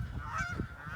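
Several geese at a Michigan pond let out loud nasal honks in quick succession, close and overlapping, over a low rumbling background.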